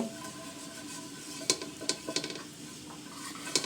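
Chicken momos fry in a lightly oiled pan, giving a soft, close, continuous sizzle with a few sharp utensil clinks and scrapes near the end, and no voices.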